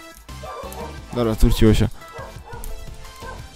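Dogs bark and yip in the background of a room, with whimpers and a louder burst of barking while someone talks over them.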